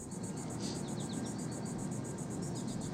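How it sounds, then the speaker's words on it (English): Steady, dense buzzing of cicadas fills a tree-shaded park on a hot summer day in southern Ontario, a continuous pulsing drone that stays even and fairly close throughout, with a few faint bird chirps woven in. "We're sitting under a canopy of trees surrounded by the steady buzz of cicadas, a type of bug that comes out on hot days in southern Ontario."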